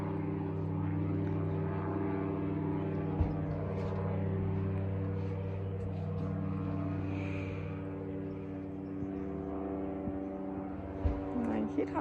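Propeller airplane flying overhead, a steady droning engine hum with sustained low tones that persists throughout, moderately loud, with faint talk and small knocks nearby.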